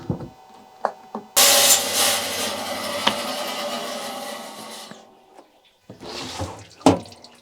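A saw cutting into a clamped Swazi agate from Mozambique gives a loud, steady, watery grinding rush of about three and a half seconds, followed by quieter knocks and a shorter second burst of cutting.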